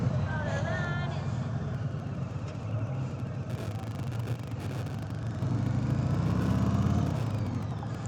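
A 2018 Harley-Davidson Sport Glide motorcycle engine rumbles steadily during a test ride, with wind and road noise, and the throttle swells briefly toward the end.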